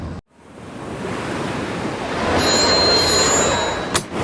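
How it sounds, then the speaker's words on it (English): Surf washes onto a beach in Pattaya, Thailand, a steady close rush of breaking waves with wind buffeting the microphone and a brief high tone near the end. "he's somewhere on a nice beach in Pattaya"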